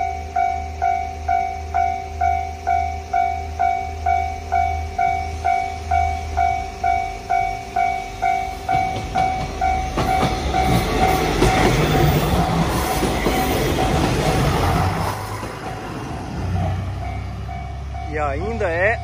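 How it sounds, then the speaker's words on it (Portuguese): A small two-car diesel train passes on a rural line in Japan, starting with a steady rhythmic clatter and rising to a loud, broad rumble as it goes by, then fading. A person talks over it. "aqui é muito pequenininho o trem"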